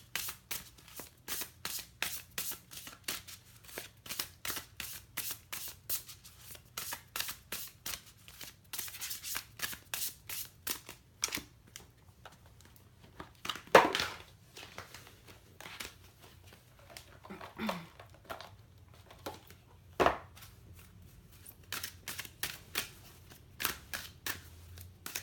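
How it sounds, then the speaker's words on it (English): Tarot cards are shuffled at close range in repeated quick riffling bursts, soft and rhythmic, with a few louder snaps and shuffles in a quiet room and no talking. "I'm also going to shuffle the other cards here."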